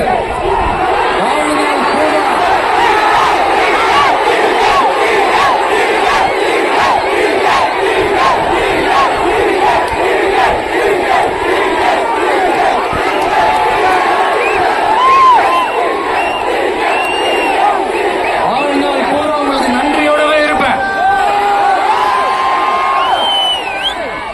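A large crowd at a political rally in Erode roars continuously, with cheering, whoops and shouted voices blending into a loud, dense wall of sound throughout.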